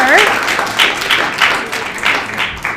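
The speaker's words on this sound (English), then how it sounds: "if we could give Sana Fadel a round of applause for all of the amazing work she has done" A round of applause at a Youth Justice Lobby Day event in January 2020, brisk clapping from a gathered audience that swells in uneven bursts, with a voice briefly audible at the start.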